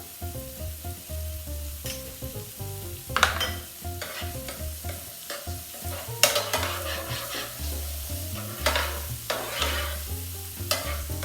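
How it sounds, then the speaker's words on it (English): Minced garlic and white onions sautéing in a pan for creamy vodka chicken penne, with a continuous close sizzle broken by repeated scrapes and stirs of a utensil. "We just saute it enough where the onions get translucent."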